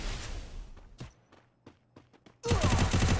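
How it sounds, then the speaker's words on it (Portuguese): Gunfire rattles in a shooting video game: dense bursts of shots at the start and end, with scattered single shots and footsteps in a quieter stretch between, loud and close. "Mano, ele deu um tiro, mano. Ele acertou o capa com um tiro"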